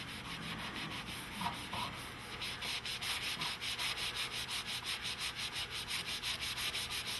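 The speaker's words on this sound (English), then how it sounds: "best to go easily along the side of the crack and polish the wax back off" Wax is being rubbed and polished off a cracked furniture finish after a Mohawk repair-kit fill, making a steady, close, rhythmic scrubbing that speeds into even back-and-forth strokes with no talking.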